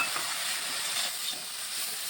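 Coriander leaves and mustard flowers frying together in hot oil give a steady, close hiss and sizzle with faint stirring, no voices.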